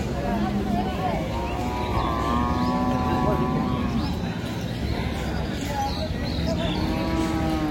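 Cattle lowing repeatedly at a crowded cattle and buffalo market in Narayanpur, Narsingdi, several moos rising over a constant bustle of chatter and voices from nearby traders and buyers.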